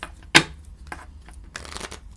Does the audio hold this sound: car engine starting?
no